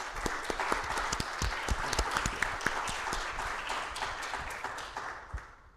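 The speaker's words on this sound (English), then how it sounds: "everybody, a round of applause for our panelists" Audience applauding a debate panel, a steady wash of clapping from many hands that holds for several seconds before thinning out near the end.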